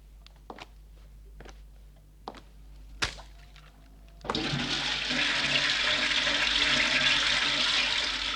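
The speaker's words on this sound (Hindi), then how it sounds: "अरे ये तो सचमुच फ्लश में जा रहे हैं।" Toilet flushing counterfeit American dollar banknotes: a few faint knocks and clicks, then a sudden loud, sustained rush of water swirling down that continues to the end.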